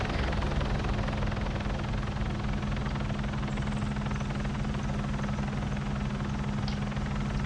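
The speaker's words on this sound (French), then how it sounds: "Hélico en plus." A helicopter flies in a video game, its rotor and engine making a loud, constant throbbing drone throughout with no talk.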